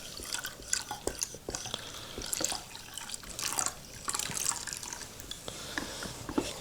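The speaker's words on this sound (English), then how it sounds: "just add the rest of that water in there." Water is poured into a pan on a stove to be gently warmed for a painting-lining process. It sounds as a close, uneven trickle with splashy drips.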